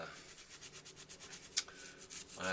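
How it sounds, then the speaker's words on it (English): Rubbing and scrubbing on a metal Yanmar engine part, cleaning the gasket surface to a shine with a scouring pad: steady back-and-forth strokes, close and fairly quiet, with a sharper scrape near the end. "I'm going to try to shine this thing up"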